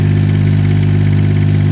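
A Kubota K008 mini excavator's engine runs at a steady, loud, close idle-like chug while its turret spins, the rhythmic low rumble continuing evenly throughout.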